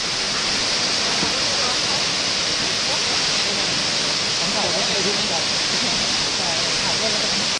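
Waterfall at Jiuzhaigou in winter, a steady, loud rush of falling water that fills the whole stretch without a break.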